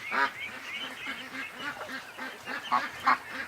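A crowd of ducks and geese on a lake keep up a dense chorus of overlapping quacks and honks, steady with a few louder calls standing out near the end, no voices.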